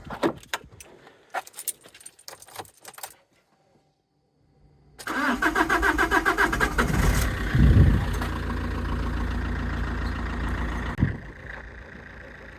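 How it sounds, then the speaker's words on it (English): Keys jingle close by, then after a brief pause a used Alfa Romeo with a slightly slow cold starter cranks, fires and revs up. It then settles into a steady, loud idle. "Let's see how she starts up now."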